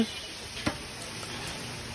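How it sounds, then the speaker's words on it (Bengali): Nimki, a crisp flaky snack, frying in hot oil on a stove, giving a soft, continuous sizzle with a few faint stirring knocks, fairly quiet and with no talking. "নিমকিগুলো তেলের ভিতর ভাজি হচ্ছে"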